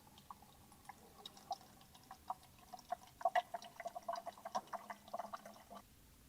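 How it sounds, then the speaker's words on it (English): Purified water poured into a bottle until full while mixing a skin-care solution for a hydra facial machine; a faint, sputtering trickle with scattered drips and splashes that grows busier toward the end. "inject purified water until the bottle is full"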